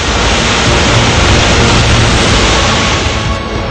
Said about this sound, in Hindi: बांध के सारे गेट खोल दिए गए और हाहाकार मचाता पानी तबाही मचाने निकल पड़ा है।